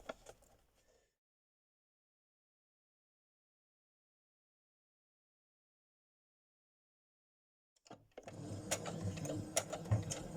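Sewing machine running a simple straight seam on ribbon, a dense mechanical whirr with clicking that starts abruptly near the end after a long stretch of silence, close and moderately loud.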